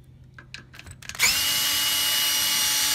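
A power drill whirs steadily on screws in a rocker recliner mechanism, starting loud and close after a few light clicks and handling taps, then running continuously to the end.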